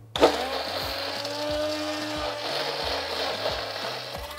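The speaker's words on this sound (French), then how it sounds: "je vais utiliser le mixeur plongeant pendant 1 à 2 minutes jusqu'à ce qu'il y ait plein de bulles dans ma pâte." An immersion blender whirs steadily through baghrir crêpe batter after a sharp start, a close, continuous motor buzz with a regular underlying pulse.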